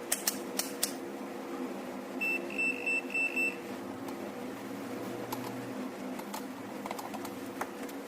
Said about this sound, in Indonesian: Oke, gunakan multimeter. Dan arahkan selection ke buzzernya.